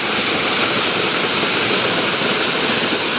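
A waterfall in the Ozark National Forest of Arkansas pours in a steady, loud, broadband roar that holds unbroken and close throughout, with no voices over it.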